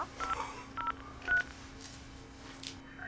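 Telephone keypad tones are pressed to enter a card number: a few short, separate DTMF beeps at irregular intervals, faint against a steady electrical hum in a quiet setting.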